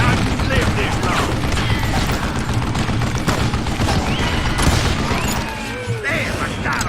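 Continuous gunfire from the western shooter game Call of Juarez Gunslinger rattles loudly and densely throughout, with rapid overlapping shots and ricochet-like whines filling the scene.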